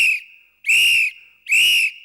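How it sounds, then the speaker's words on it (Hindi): A shrill whistle is blown on a bus in three sharp blasts, loud and close, the first trailing off and two sustained tones following with short pauses between. "ये सीटी खुद ब खुद"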